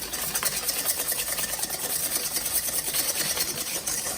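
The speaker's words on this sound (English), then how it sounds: "with this whisk, I'm trying to get that butter and flour mixture sort of better combined throughout" A whisk scrapes and rubs through a butter and flour mixture in a bowl, a steady, close, rapid scratchy churning that continues without pause and with no talking.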